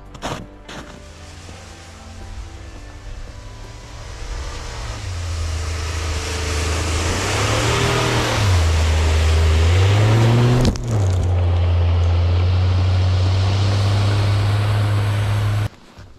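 A truck's engine revs hard while crossing hard, rough ground, the drone climbing and dipping in pitch several times before holding a loud, steady roar that cuts off abruptly at the end.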